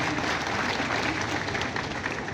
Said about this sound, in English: Let us give him a clap.